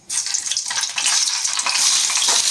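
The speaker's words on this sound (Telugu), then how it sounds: "ఆయిల్ బాగా వేడిన తర్వాత ముందుగా మనం కట్ చేసి పెట్టుకున్నాం కదా టమాటాలు అవి వేసుకోవాలి" Chopped tomatoes drop into hot oil for a gongura chutney, setting off a loud, steady sizzle and crackle that begins abruptly and holds without pause.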